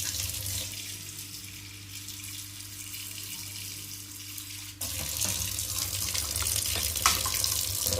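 Tap water running steadily over bitter gourd in a kitchen sink, a continuous hissing splash that shifts and grows louder midway as the gourd is moved under the stream.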